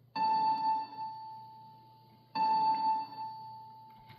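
A vocal and keys mix from a song is played with only reverb switched on. Two bright, sustained tonal chords each swell in and then fade into a lingering reverb tail. The sound is clear and moderately loud, with no talking.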